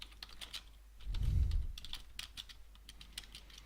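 Rapid keystrokes on a computer keyboard, a steady run of light clicks with no voices, close and fairly quiet, with a soft low thump around the middle.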